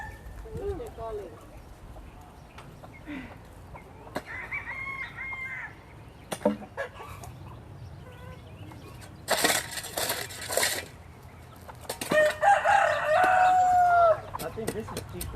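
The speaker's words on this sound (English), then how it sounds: "Rooster calling." Rooster crowing near a gate where chickens roam, one drawn-out crow rising late amid clucks and scuffling, with people talking throughout.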